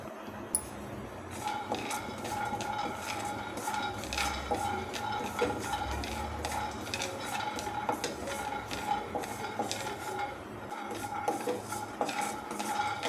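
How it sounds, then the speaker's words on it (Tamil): Handful of peanuts dry-roasting in a kadai on a gas stove, stirred with repeated scraping and light rattling of nuts against the metal pan, close and continuous. "அதில் ஒரு கைப்பிடி அளவுக்கு வேர்க்கடலை போட்டு வறுத்துக்கலாம்."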